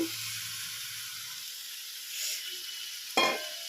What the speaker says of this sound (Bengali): তো এবারে চিংড়ি মাছগুলো এর মধ্যে দিয়ে নেব